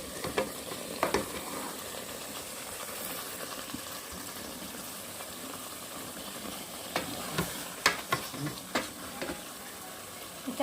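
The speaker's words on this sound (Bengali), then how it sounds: "এবার এতে আমি জলটা দেব গ্রেভির জন্য।" Water added to chicken frying in a rice cooker for a potato chicken curry: a continuous close sizzle with occasional clinks and scrapes of stirring, a little louder toward the end.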